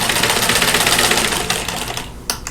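A sewing machine stitching quilt block pieces for a churn dash quilt, running in a fast, steady mechanical patter that stops near the end, followed by a brief click.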